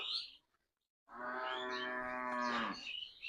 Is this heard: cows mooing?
yes